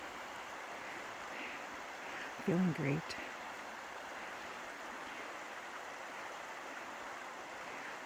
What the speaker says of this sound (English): Water's still rushing.